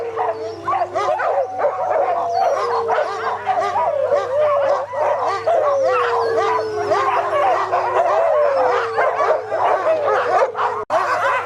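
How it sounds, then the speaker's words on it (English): A chorus of Arctic sled dogs howling, yipping and barking together, loud and continuous, overlapping voices rising and falling with eager whines. "Everywhere the dogs were howling and barking, desperate to be off."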